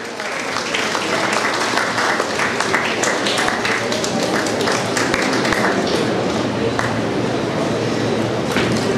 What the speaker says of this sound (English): Give huge round of applause.